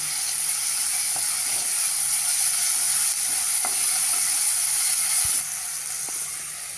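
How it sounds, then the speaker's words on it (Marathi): Tomatoes tossed onto softened onions sizzle and fry steadily in a hot pan for rice masala roti, with a constant hiss broken by occasional scraping stirs; the sizzle fades slightly near the end. "कांद्यावर टमॅटो पण घालूया टोमॅटो पण आपल्याला चांगला शिजवून घ्यायचा आहे"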